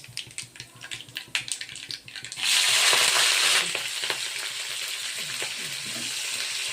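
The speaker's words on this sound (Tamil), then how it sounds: "இப்போ பிரண்டையை முதல்ல நல்லா வதக்கலாம்." Crackling and scraping at first, then a loud burst of sizzling as pirandai (veldt grape) stems hit hot oil, settling into a steady frying hiss with no voices.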